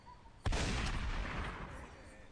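A single loud shotgun blast in the horror video game Mr. Meat, a sharp broadband crack followed by a long, dense rumbling decay that fills the rest of the moment with no talk.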